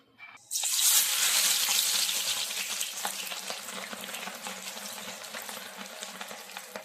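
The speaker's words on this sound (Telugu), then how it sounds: "ఇప్పుడు దీన్ని రెడ్ కలర్ వచ్చేంత వరకు ఆనియన్స్ని బాగా వేయించాలి గైస్" Thinly sliced onions for kachi biryani hit hot oil with a sudden loud hiss that settles into a steady, crackling sizzle, close and continuous, with no voices.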